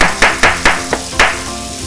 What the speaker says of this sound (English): bruise gently the lemongrass. And you bruise that by just like chopping densely so you get the flavors out